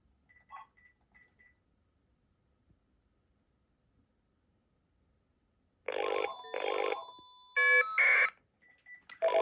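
Telephone on a landline call line in Italy ringing in a few long bursts, loud and close, after a quiet stretch with faint short tones at the start and end.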